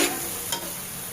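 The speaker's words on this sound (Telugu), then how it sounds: "బాగా వేయించేసి" Tamarind chutney mixture fries in oil with a close, steady sizzle and crackle, a brief stir audible partway through.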